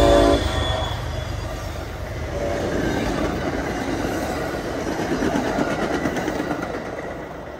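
A Keolis commuter train led by an HSP46 locomotive with a cab car at the rear rolls past, a steady rumble of wheels and rail noise with a horn note at the start, fairly close.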